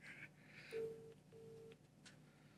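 An unanswered phone call rings out with two faint, steady electronic ringback tones separated by a short pause, with a low background hum.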